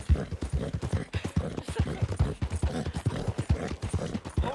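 Horse hooves in the video game Red Dead Redemption clip-clop in a quick, steady galloping rhythm, close and prominent, with no talking.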